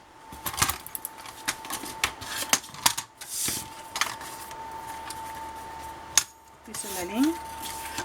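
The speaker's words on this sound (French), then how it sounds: "Et on va couper ici." Paper is cut by hand for a scrapbook album: sharp, close snips and rustles arrive in irregular bursts, then a brief scratchy stroke, while a voice speaks quietly in between.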